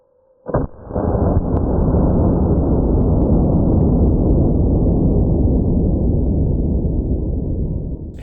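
A single loud blast from an FP45 Liberator pistol firing .45 ACP, a sharp close report followed by a long, heavy, noisy wash that fills the rest of the clip, with no talking.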